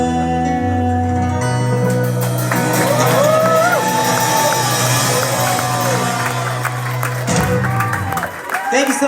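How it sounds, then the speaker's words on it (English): Live concert audience clapping and cheering, a steady wash of applause and whoops over sustained stage tones, with someone talking over the crowd. "But you gotta keep clapping or else it'll look weird if we come back."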